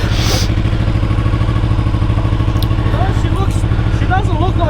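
A BMW K100 café racer motorcycle engine runs at a steady, loud idle, a dense rhythmic mechanical thrum close by, with people talking over it.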